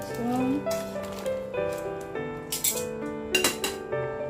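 Utensils clinking and scraping against a pan while pancit canton noodles are tossed with vegetables, a series of light metallic taps and rattles under steady talking.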